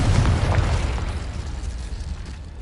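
A Confringo fire spell detonates in the game Hogwarts Legacy, a loud, close, booming burst whose deep rumble gradually fades away.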